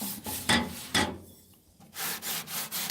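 Repeated rubbing strokes on the stovepipe of a Great Majestic cookstove during cleaning, close and fairly loud, with short pauses between bursts and no talking.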